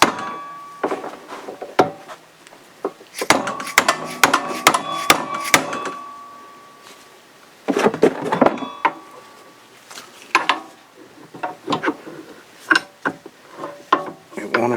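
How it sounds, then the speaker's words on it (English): Repeated sharp knocks from an old, worn dead blow hammer striking a Polaris Sportsman front U-joint yoke to drive it loose from its bearing, coming in clustered bursts with short pauses, close and loud. "I'm just going to use my old beat up dead blow hammer here."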